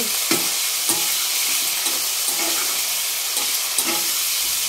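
Chicken curry seasoned with salt fries in a pan and is stirred, with a steady, close sizzle broken by regular scraping strokes and no talking.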